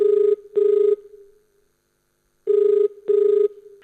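Telephone ringing in a classic double-ring pattern, two pairs of loud bursts separated by a pause, as a farmer's call comes in to a rural radio program; clear and close with no voices over it.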